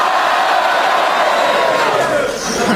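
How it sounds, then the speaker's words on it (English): Studio audience at a BBC panel show cheering and shouting together, a loud continuous crowd roar that holds steady for a few seconds. "If you agree with Marcus, will you please cheer for him?"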